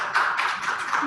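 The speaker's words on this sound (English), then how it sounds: "You can clap now if you're going to clap." An audience at a talk claps briefly, a soft, dense patter of many hands at moderate distance.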